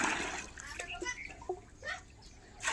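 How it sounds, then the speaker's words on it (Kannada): Hot water is scooped from a container for bathing in a village home, with a few short splashes and pours close by while people talk faintly in the background. "ಅತ್ತೆ ಜಳಕ ಮಾಡಕ್ ನೀರು ತಗೋತಾ ಇದಾರೆ ಇವಾಗ."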